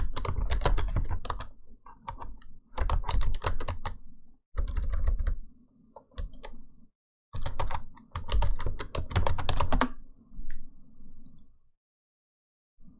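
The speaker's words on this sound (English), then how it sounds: "give me a chance to type that out" Fast typing on a computer keyboard in quiet bursts of close, crisp key clicks, separated by short pauses, with no talking.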